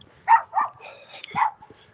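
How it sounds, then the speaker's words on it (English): A large dog barking in a residential neighborhood, a few sharp barks close together, moderately near, over a quiet background. "ferocious dog you can hear"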